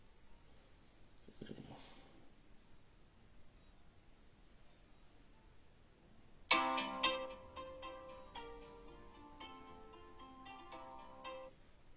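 A phone rings with an incoming call as a quiet melodic ringtone plays on and off over faint background hiss, after a brief soft noise earlier.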